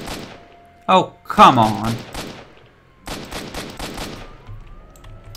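Gunfire in the video game S.T.A.L.K.E.R. Shadow of Chernobyl: a sharp single shot followed by a loud rapid burst, then a quieter stretch of repeated shots, with a voice speaking over it.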